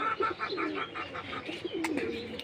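Domestic pigeons coo before being released for flight, soft repeated throaty coos in a rhythmic series, close and fairly quiet, with no talk.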